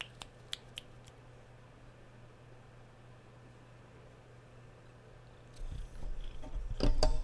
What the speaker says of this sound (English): Well, hopefully you heard her purr.